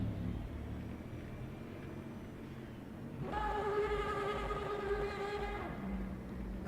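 An Aston Martin Racing 009 Valkyrie engine in the racing game Le Mans Ultimate at Spa, a low rumble that jumps into a loud, bright, rising engine wail about halfway through, holding steady before easing off.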